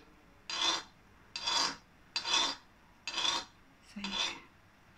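Khoya being stirred in a pan over low heat while making gulab jamun, five rhythmic scraping, rasping strokes spaced about a second apart, close and fairly loud with no talking.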